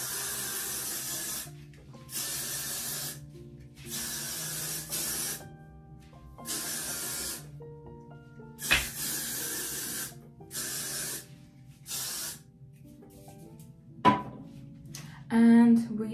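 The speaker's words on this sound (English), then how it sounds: "Some hairspray." Hairspray misted onto hair in repeated bursts, about seven short aerosol hisses separated by brief pauses, close and fairly loud, with light rustling between sprays.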